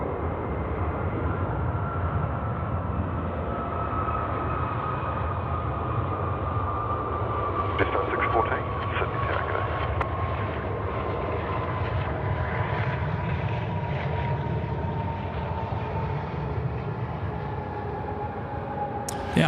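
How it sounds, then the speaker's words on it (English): An Emirates airliner lands at night on runway 16 right at Sydney Airport, a loud, steady jet roar with a droning engine whine that holds for the whole stretch, nearby and unbroken. "The Emirates just dropping it in 16 right."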